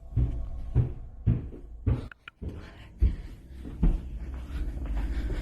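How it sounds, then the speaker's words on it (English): Heavy, muffled thuds of boots on stairs, roughly evenly spaced, dull and soft-edged, with faint background noise between steps. "The sound I'm hearing is boots heavily stomping on the stairs leading up to a floor"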